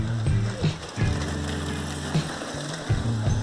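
Horse hooves clopping on a road, caught during a BMW F800GS motorcycle ride on the Caminho da Fé. Irregular hoof knocks sit under a steady, droning engine hum.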